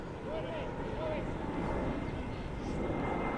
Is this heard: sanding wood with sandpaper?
no